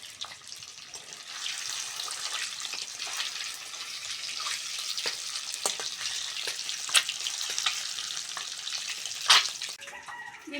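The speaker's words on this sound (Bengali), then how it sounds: "ডিম ভাজার জন্য কড়ার মধ্যে তেল দিয়ে দেবো" Turmeric-coated boiled country-chicken eggs fry in oil in a kadai, sizzling and crackling steadily for several seconds, with occasional sharper pops and a few clinks, and nobody speaks.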